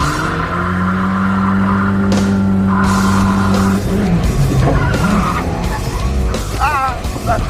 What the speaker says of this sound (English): So backwards out of the hole into a Rockford, and then you'll see what happens